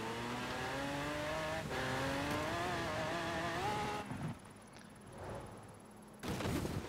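A car accelerating hard in Forza Horizon 4, engine pitch climbing steadily through a gear change, then a drop-off and a brief renewed surge near the end, no talking.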